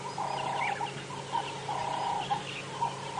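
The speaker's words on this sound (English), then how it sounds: "Buffalo weavers in the background." Buffalo weavers chatter in the background of a sunrise safari drive, with repeated bird calls in short rhythmic bursts, moderately distant against quiet ambience.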